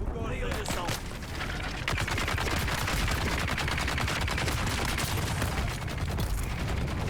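Sustained automatic turret fire in the Dune: Awakening video game during a raid on the Ironworks, a dense unbroken clatter of rapid shots that stays loud and steady throughout, layered over heavy battle noise.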